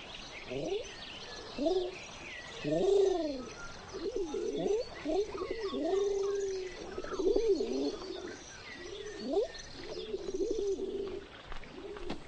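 A dove coos in a slow series of soft, repeated rolling calls, fairly close and continuing throughout, with faint background sound.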